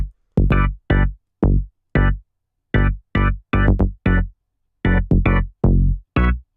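Bass and chords from a garage house track made in Logic Pro X trade short, punchy stabs in a choppy, syncopated pattern, each hit cut off sharply with silent gaps between, loud and dry with no voices.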